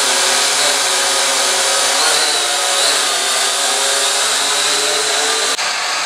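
A small toy drone flies with its motors buzzing, giving a loud, steady, high-pitched whine that wavers slightly as it flies and cuts off sharply near the end, with no voices.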